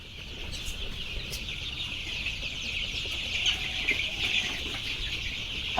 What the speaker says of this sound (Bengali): আমার 2 নাম্বার শেডে 1000 সোনালী মুরগির বাচ্চা আছে